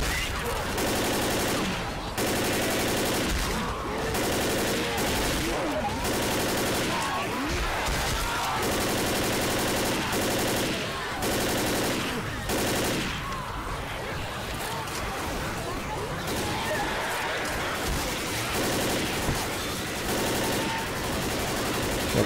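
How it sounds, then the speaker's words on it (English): Heavy, near-continuous gunfire fills the video game Left 4 Dead, with bursts and volleys in a dense, loud mix of game sound, and a voice talks intermittently over it. "Try to shoot those barrels."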